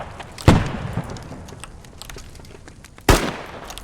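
Two sharp, booming gunshots from the military shooter game Squad ring out about two and a half seconds apart, each followed by a short decaying tail, with faint scattered pops in between.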